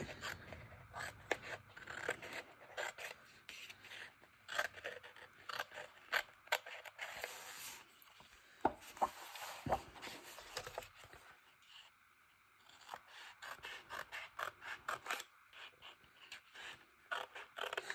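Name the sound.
scissors cutting a postcard for collage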